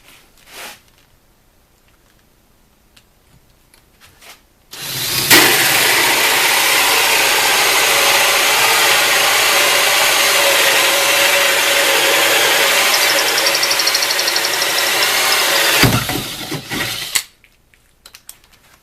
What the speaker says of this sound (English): we'll try one more time with the hammer drill mode off